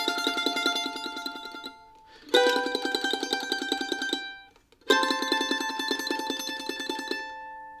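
A mandolin rings out a double stop with rapid tremolo picking on the top note, fluttering steadily in three sustained phrases separated by brief pauses.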